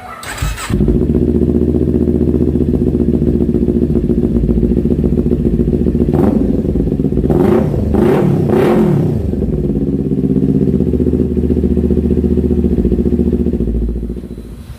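A Kawasaki Ninja 400 KRT fitted with an R11 exhaust starts and settles into a loud, close idle, then gives several sharp revs in quick succession before returning to a steady idle.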